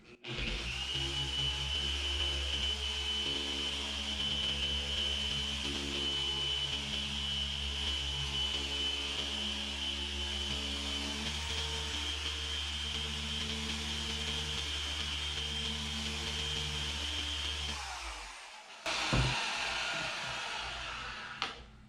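Car polisher spun at speed setting 5 on paint with D1 Polish Enhancer, a loud steady motor whine with an even hum that runs continuously for about eighteen seconds, then cuts off, followed by a short clatter.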